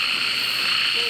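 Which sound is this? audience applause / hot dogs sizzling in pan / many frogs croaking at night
many frogs croaking at night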